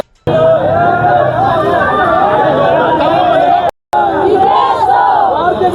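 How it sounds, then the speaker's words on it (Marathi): A crowd of party workers roars and shouts in celebration of a ward 125 municipal election win, a dense, loud, continuous din with one brief cut. "जल्लोष."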